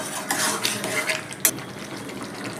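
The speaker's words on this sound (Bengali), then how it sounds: "ভালো করে মিশিয়ে দেবো।" Potato and pointed gourd curry being stirred in a pan after ghee and garam masala are added, with scraping and clinking of a spoon against the cookware, close and fairly loud, one sharp knock near the end.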